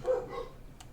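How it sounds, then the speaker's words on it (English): Dogs bark in a single short, faint burst, heard briefly with no talk over it. "Of course the dogs are barking"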